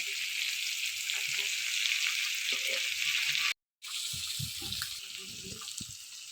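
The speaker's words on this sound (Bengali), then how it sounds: "মাছ আমাদের হালকা করে ভাজা হয়ে গেছে এবার নামিয়ে নেব" Steady, hissing sizzle of shing catfish frying lightly in hot oil, nearby and continuous, with a brief silent break and soft clinks underneath.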